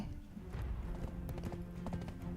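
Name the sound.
hoofbeats of blue Doom Horse in Black Desert video game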